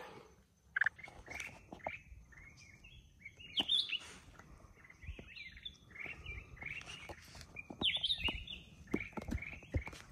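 Red-whiskered bulbuls sing beside a paved roadside, repeated bright whistled phrases and chirps from more than one bird, moderately close and steady for the whole stretch with faint background ambience.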